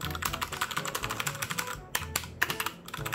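Rapid, steady typing on a budget 60% keyboard fitted with brown switches and a USB Type-C connection, keystrokes clattering close and clear with short pauses and no talk.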